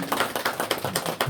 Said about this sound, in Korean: 우리 박수로 우리 환영합시다.